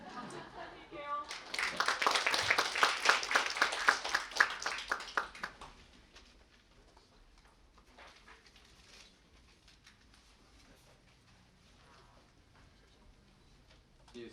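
An audience claps to welcome a professor at a 2019 international media and information literacy conference fact-checking session. A dense, fairly loud burst lasts about four seconds, then tapers into quiet room noise with scattered faint sounds.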